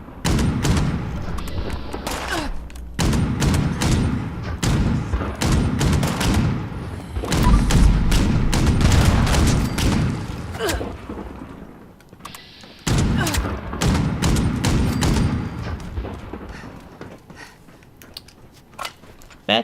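A heavy gunner in Fallout 76 lets off loud, sustained bursts of gunfire, with dense automatic volleys and booming impacts broken by short pauses across a long firefight.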